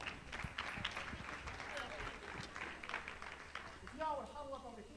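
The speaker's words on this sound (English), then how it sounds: "give me a round of applause" A small group claps in a scattered, brief round of applause, with voices chattering and a few shouts beneath it.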